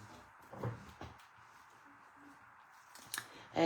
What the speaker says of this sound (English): And I can actually cut these into smaller bits.